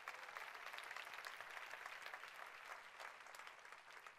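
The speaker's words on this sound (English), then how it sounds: "I think that deserves a big round of applause for Nu Skin" An audience at a Nu Skin corporate presentation claps in sustained applause, steady and fairly distant, with no voices over it.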